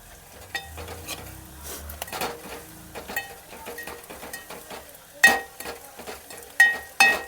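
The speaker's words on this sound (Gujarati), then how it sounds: "લસણવાળું મરચું નાખીને જો આ રીતનું તેલમાં મિક્સ કરવાનું છે" Garlic-chili mixture stirred into hot oil in a pan for Gujarati bhindi shaak, with soft sizzling under repeated scraping and stirring strokes and a few sharper clinks of the utensil against the pan near the end.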